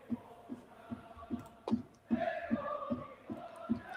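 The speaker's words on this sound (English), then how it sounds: "there you hear the loudest fans of the Pacific League, the Lotte Owendan" Chiba Lotte Marines cheering section fans at a baseball game chanting in a rhythmic pulse, with regular drum-like thumps about twice a second and a swelling crowd chant partway through.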